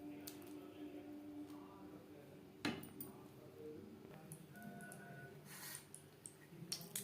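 A spoon stirs egg khichuri in a pot, faint scraping and soft clinks of metal on the pot with one sharper knock, quiet and close, over a low background hum.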